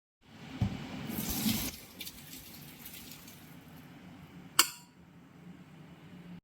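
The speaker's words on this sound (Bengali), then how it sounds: "পাস্তাটা বয়েল হয়ে গেছে, বয়েল হয়ে এবার এটাকে ছাঁকনিতে ছেঁকে নেওয়া হচ্ছে।" Boiled macaroni pasta is tipped into a strainer, a brief rush of pouring water and splashing followed by a steady low trickle and a sharp clink of metal, close in a home kitchen.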